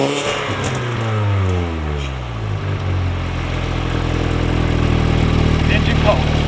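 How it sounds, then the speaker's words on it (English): Mini Cooper R53 track car with a cold engine, revving up and settling back, a loud near rasping exhaust whose pitch rises and falls in sweeps, then holds a steady throbbing idle, with voices talking over it. "Are we going to do some obligatory exhaust noises?"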